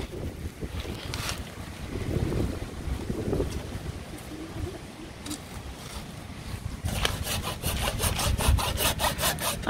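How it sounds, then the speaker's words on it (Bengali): A hand saw cuts through a fallen tree after a storm, its rasping strokes rhythmic and close, becoming quicker and sharper toward the end over steady wind noise outdoors. "আপনাদের শানু ভাবি গাছ কাটতেছে"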